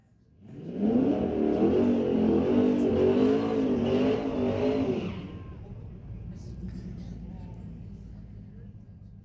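A drag car, a Chevrolet Nova, launches hard down the strip at a street-legal drag night at Mission Raceway Park, a loud roaring engine surge lasting about four seconds before fading into distant track noise.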